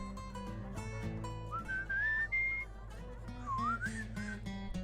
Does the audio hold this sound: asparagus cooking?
no